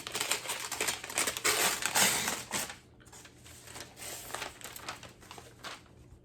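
Vinyl record sleeve torn open by hand, a few seconds of loud crinkling and ripping plastic close up, then quieter rustling as the tearing tapers off.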